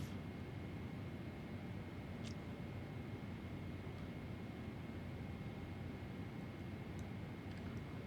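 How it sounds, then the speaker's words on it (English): Steady low engine drone and airflow rumble of a PMDG Boeing 777-200 British Airways airliner in level flight in a flight simulator, continuous and even throughout with no talk. "Aeroplane's levelling off."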